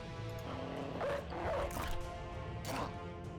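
A dog in the video game Battle Brothers gives a few short yelps and whimpers amid clashing combat sounds, over a droning music bed.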